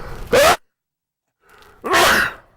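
Two sharp sneezes, close and loud, about a second and a half apart, with near silence between them.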